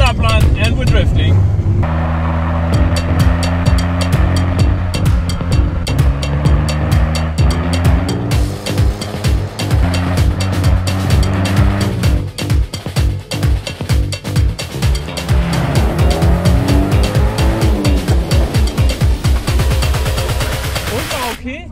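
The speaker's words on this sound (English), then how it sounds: "And we're drifting." An overland Porsche drifts on a road in Lofoten. The engine roars loud and close with rising and falling revs and a rushing, gritty noise, and voices can be heard under it.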